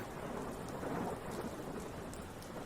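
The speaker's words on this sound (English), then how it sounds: "Listen, it's raining." Steady rain and a rolling thunderstorm form a dense, continuous wash of hissing downpour with a low, sustained rumble underneath, with no voices present.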